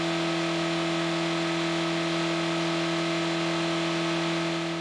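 An engine runs nonstop on a test stand during a 300-hour torture test, giving a loud, perfectly steady droning hum with strong constant tones and no change in pitch, heard alone without voices.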